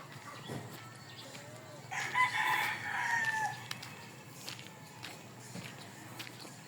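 Roosters crowing at a village cockfighting pit, one long crow rising clearly for about two seconds mid-clip over faint outdoor background, with occasional footsteps and clucks around it.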